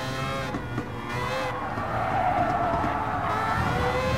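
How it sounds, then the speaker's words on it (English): Tires squeal and skid through a sustained drift of a Mazda RX-Vision GT3 Concept race car in Gran Turismo, a loud continuous screech layered over the engine's roar. "There you go! Full drift!"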